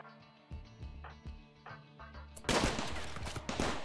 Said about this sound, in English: the turrets have finally hit somebody